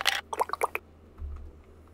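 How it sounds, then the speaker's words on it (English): A water bottle sound effect used in a botanica-style music production: a quick run of short, bright glugging pops and squishy bursts, followed by a softer low swell, all without any talking. "water bottle effect"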